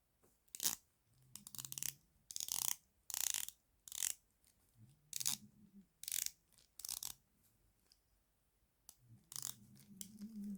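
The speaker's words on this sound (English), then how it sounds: "So let's listen to bezel actions here." Bursts of crisp ratcheting clicks from a dive watch bezel being turned by hand, close and quiet, coming in short runs separated by brief pauses over about ten seconds.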